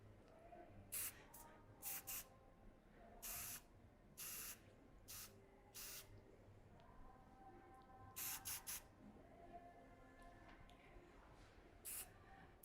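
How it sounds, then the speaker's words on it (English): NYCE soft hairspray is sprayed onto hair in a series of short, crisp hissing bursts, some single and some in quick pairs, with quiet pauses between them. "you can use the soft hairspray."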